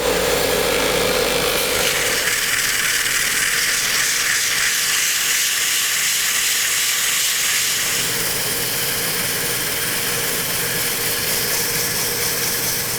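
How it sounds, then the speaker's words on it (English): Continuous loud abrasive hiss of sanding a wooden wand handle, close and steady, with a slight shift in tone partway through. "we'll be ready to sand it"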